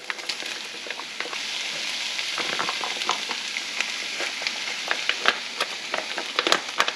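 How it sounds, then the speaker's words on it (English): Riced cauliflower frying in a hot pan for a keto butter chicken curry: a steady, close sizzle full of fine crackles and pops that grow a little busier toward the end, with no talk. "We're going to go ahead and add in our rice cauliflower."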